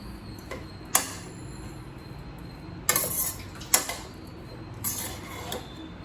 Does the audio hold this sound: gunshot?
no